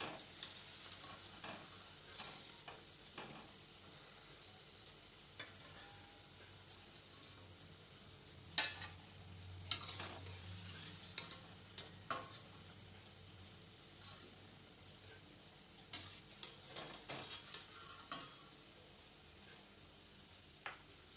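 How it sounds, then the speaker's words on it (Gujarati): Green corn bhajiya frying in hot oil, a faint, soft sizzle punctuated by occasional clinks and scrapes of a slotted spoon against the pan, quiet and intermittent. "હવે એ જ રીતે હું બધા જ ભજીયાને તળી લઈશ।"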